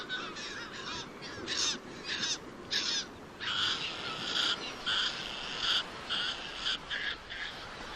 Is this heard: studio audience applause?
no